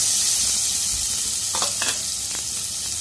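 Onion and tomato frying in oil left over from frying eggs, for a Marathi egg curry: a steady loud sizzle with a few brief stirring scrapes partway through.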